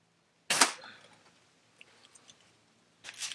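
Two sharp cracks from a Ruger Mark IV pistol, heard fairly close, the first with a short decaying tail, then faint rustles before the second.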